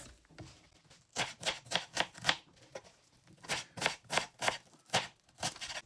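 Onion being chopped with a knife on a board: two runs of quick, crisp, evenly spaced close cuts, each about a dozen strokes long, separated by a short pause, with no talk.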